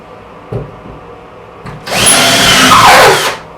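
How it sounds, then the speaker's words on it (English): A couple of light taps, then a power drill with a Phillips bit whirs loudly for over a second as it drives a drywall anchor in, spinning down at the end. "my Phillips attachment on my drill"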